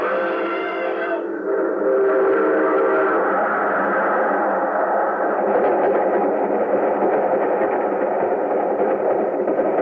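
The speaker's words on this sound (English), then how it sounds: "There's a train coming." A train's horn blares loudly and steadily, its tonal wail holding over a heavy rumbling roar that stays strong throughout.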